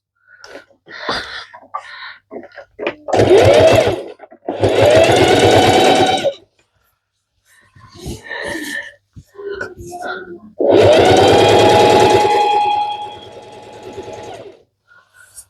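A sewing machine stitches crib sheet fabric in several loud, close runs of rapid whirring that start and stop, with quieter handling sounds in between.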